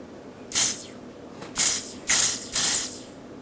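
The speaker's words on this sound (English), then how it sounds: "That was a nice little spritz." A Dior Airflash primer and setting spray aerosol can is sprayed in four forceful hissing bursts, close and loud, with short pauses between them over a faint background hum.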